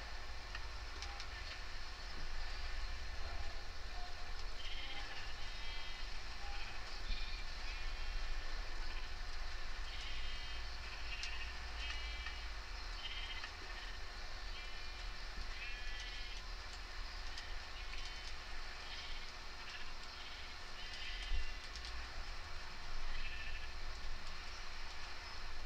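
Sheep bleat in a Minecraft world, repeated short calls sitting over a steady, loud background hum that runs the whole time with no talking.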